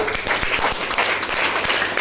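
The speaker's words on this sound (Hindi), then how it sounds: "तो जोरदार ताली होनी चाहिए इसके लिए" Audience applause at a product presentation in a hall, a dense burst of many hands clapping close and loud, sustained without pause.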